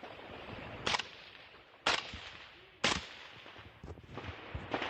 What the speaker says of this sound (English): You can hear some gunfire in the distance